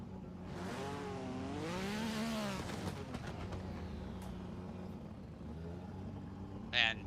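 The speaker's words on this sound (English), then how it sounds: "Man, Jimmy, that engine sounds insane." A drift car engine revs hard in a competitive drifting battle, a loud sustained rising and falling roar with whining sweeps, heard at a distance under a commentator talking.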